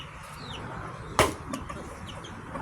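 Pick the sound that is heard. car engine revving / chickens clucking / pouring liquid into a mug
chickens clucking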